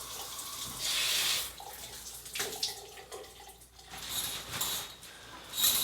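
Water runs from a home shower that is not producing hot water, an uneven splashing hiss that swells and fades with brief gurgles and drips, fairly faint.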